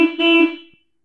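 A car horn gives one short, loud honk that fades quickly into silence.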